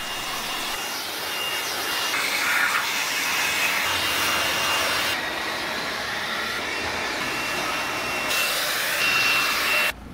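An air blower roars steadily while drying water off a Mini Countryman during a car wash, a loud, continuous rushing hiss with slight shifts in pitch as it moves around the body.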